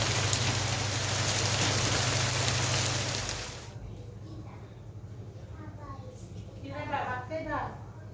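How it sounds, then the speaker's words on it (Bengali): A sudden downpour of heavy rain with big drops gives a loud, dense hiss for about three and a half seconds, then drops away to a softer patter while voices, including a child's, are heard. "হঠাৎ বৃষ্টি শুরু হয়েছে,"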